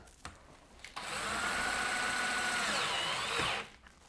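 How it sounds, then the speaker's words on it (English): A power drill drives screws into a friction hinge in one sustained close whine lasting about two and a half seconds, with brief clicks before and after. "Just put a couple of screws in first, and then we can try it before we put the rest in."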